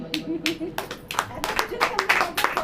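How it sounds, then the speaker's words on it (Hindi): A crowd at a church service claps in a quick, uneven burst of applause, with voices mixed in, close and fairly loud throughout. "तालियां बजाइए"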